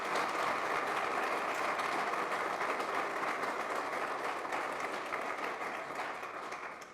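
A crowd applauds at a farewell leadership celebration for Dr. Lamen, many hands clapping in a thick, continuous roar that holds loud and even, tapering slightly toward the end with no voices on top.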